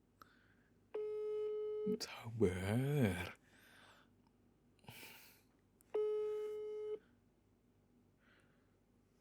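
Two steady electronic call-progress tones, each about a second long, separated by a few seconds, while a telephone call is placed from a bedroom; a brief spoken word falls between the tones.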